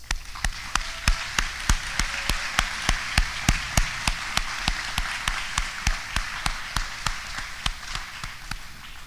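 An audience at a university nurse pinning ceremony claps in a steady, evenly spaced rhythm, each clap sharp and distinct, like a crowd beating time together rather than scattered applause.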